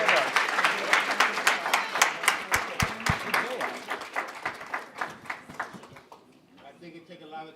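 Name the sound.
round of applause for young entrepreneurs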